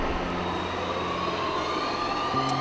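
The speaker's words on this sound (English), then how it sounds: "Their metro is very modern." A modern Paris metro train runs along its line, a steady close rumble with whining electric motor tones and a sudden pitch shift near the end, with no voices.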